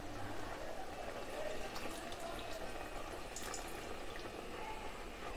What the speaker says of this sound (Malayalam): അരപ്പ് വെള്ളം കൂടെ ചേർത്ത് കൊടുക്കാം.